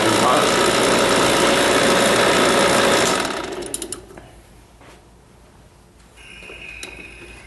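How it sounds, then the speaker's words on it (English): A vacuum pump hooked to an HVAC micron gauge setup runs with a loud, steady mechanical drone, then switches off and winds down into quiet. Faint clicks and handling noises follow. "go ahead and turn off my vacuum pump"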